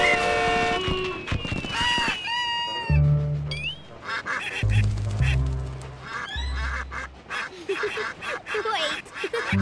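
Cartoon ducks quack and honk in a Thomas & Friends animated scene, several loud, bright calls bursting out over background music and effects, with voices talking between them.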